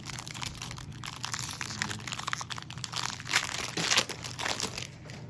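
Foil wrapper of a Magic: The Gathering booster pack crinkles and crackles steadily up close as it is torn open, a dense continuous rustle with sharper crunches, no voices.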